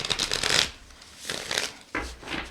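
Oracle cards being shuffled in quick riffling bursts, three short rounds separated by brief pauses, close and crisp.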